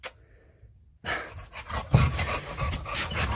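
A dog pants steadily and close by, rhythmic breaths continuing after a short quiet start, with stream chatter and other noise in the background.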